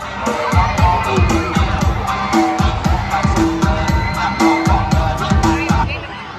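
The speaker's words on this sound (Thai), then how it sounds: "ขอเสียงปรบมือและรับชมได้เลยครับ" A school audience at a Chinese New Year event cheers and shouts, children's voices rising in bursts over steady clapping, loud and close throughout.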